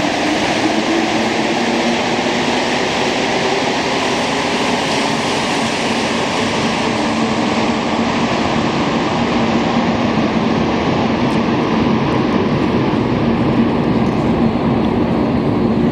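Loud, continuous rumble and roar of a Montreal Metro Green Line train in motion, steady and unbroken for the whole stretch, heard from inside the car.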